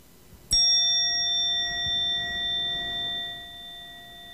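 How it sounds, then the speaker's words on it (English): A meditation bell struck once, a clear bright ding that rings out and sustains with a slow, shimmering decay, alone in a quiet room. "I'll use my magic bell here to start us and to end."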